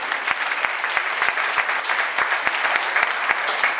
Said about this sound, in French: Je voudrais entendre vos applaudissements